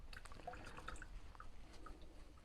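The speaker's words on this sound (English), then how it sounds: "Let's give it a wee bit of a rinse." Water dripping and trickling over a small diecast Ford model car body during a quick rinse, soft splashy drops and liquid patter close by, no talking.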